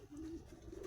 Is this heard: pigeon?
yes